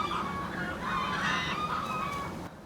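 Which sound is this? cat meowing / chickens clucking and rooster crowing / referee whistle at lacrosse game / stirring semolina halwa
chickens clucking and rooster crowing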